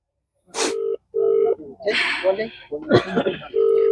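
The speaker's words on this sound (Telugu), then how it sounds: "మళ్ళీ ఒకసారి కేటీఆర్ సార్ ఫోన్ చేద్దాము" Steady telephone tones sound in repeated bursts, a ringback-like hum that starts and stops, with a person talking in between.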